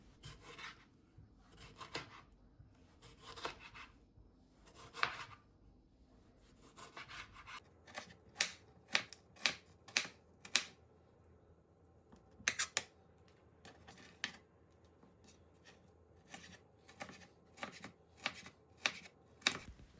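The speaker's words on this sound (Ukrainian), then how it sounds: "Далі беремо 4 помідори і нарізаємо мілким кубиком." A knife dices four tomatoes into small cubes, producing a long run of crisp, evenly spaced chops against a board close by, speeding into a quicker rhythm partway through with no talking.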